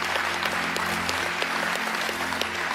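A church audience applauds, a dense, steady patter of many hands clapping at once, moderately loud and continuous with no talking over it.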